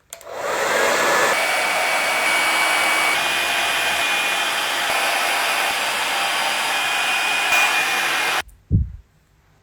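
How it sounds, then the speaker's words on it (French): Hair dryer fitted with a diffuser running steadily and loudly as it dries curly hair, a constant whooshing roar that holds for about eight seconds before switching off, leaving brief handling noise. "tu viens sécher tes boucles à l'aide d'un diffuseur"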